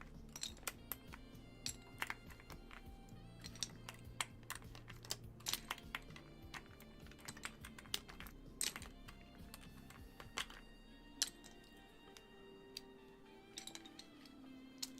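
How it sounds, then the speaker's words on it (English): Keycaps are pried off an Epomaker Split 70 keyboard in a quiet room, producing a rapid series of sharp plastic clicks and snaps with short pauses between them. "I'm going to replace these keycaps anyway, so I'm just going to pull them off"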